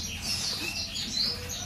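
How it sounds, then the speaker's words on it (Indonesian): A white-rumped shama of the Aceh strain, from a breeding farm, sings a steady run of high, bright chirps and whistled phrases, moderately near, with faint background noise and no talking. "Murai batu Aceh."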